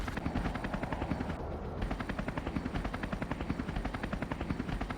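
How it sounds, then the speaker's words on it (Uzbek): Helicopter from a helicopter mod in Minecraft Bedrock Edition, a steady rapid rotor chop with a constant engine drone, loud and continuous throughout with no talking. "Vertolyotni yoqilg'isini to'ldirib bo'lgandan keyin unga nasib va oldinga yurishni bosib turib sakrashni bosasiz, keyin esa vertolyot uchadi."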